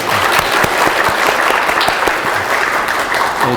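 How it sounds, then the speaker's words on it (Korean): Church congregation applauding at a worship service opening a training program, a dense, steady wash of many hands clapping close by, continuous throughout with no talk on top. "박수로 한번 격려하겠습니다"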